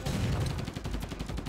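Rapid spread-shot gunfire from the character Lemon in the twin-stick shooter Assault Android Cactus, a dense stream of quick overlapping blasts with a heavy low rumble, continuous and loud.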